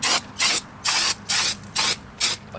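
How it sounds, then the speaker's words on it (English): Brake cleaner sprayed onto a new front brake rotor for a 2014-2018 Jeep Cherokee, stripping factory grease or coating: six short, evenly spaced hissing bursts, close and loud, with brief silences between them. "you're going to want to take the brake clean"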